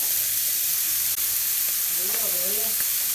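Shrimp fry in a hot pan with a steady, close, broadband sizzle that holds throughout, and a few faint tonal sounds surface briefly near the end.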